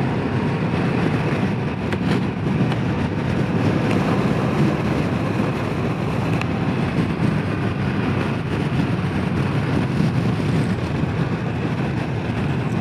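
Steady wind roar buffets the rider on a 2024 Harley-Davidson CVO Pan America during a demo ride, a loud continuous rumble with no talk over it.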